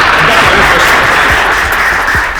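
Steady, loud applause at a school awards quiz event greets a correct answer, a dense sustained wash of clapping lasting a couple of seconds.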